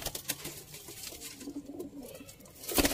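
Sialkoti pigeons cooing softly up close with patters of wing flapping and scuffling, ending in a louder burst of flapping.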